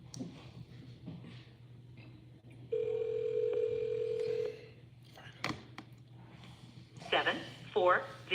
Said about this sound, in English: About to call for my cell phone.